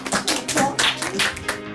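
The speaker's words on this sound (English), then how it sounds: "Round of applause for Charlie." A small group at a school claps for Charlie, a brief, uneven patter of hand claps close by.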